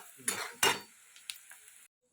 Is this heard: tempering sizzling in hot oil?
yes